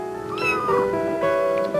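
A kitten meows twice up close, high and drawn-out cries in quick succession.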